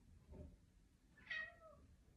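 A cat gives a single clear meow, rising and then falling, near and fairly quiet over a soft background hum.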